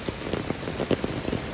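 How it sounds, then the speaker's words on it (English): Heavy rain from an atmospheric river pours steadily onto surfaces nearby, a dense continuous patter with scattered louder drops. "I just heard the rain let up a little bit."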